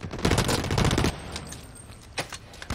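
Rifle fire from the online shooter Blacklight Retribution: a rapid, loud burst of automatic shots for about a second, then quieter scattered single shots and ambient game noise.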